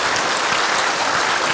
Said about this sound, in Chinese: 现在就让我们以最热烈掌声欢迎陈介元老师以及郭弘毅老师。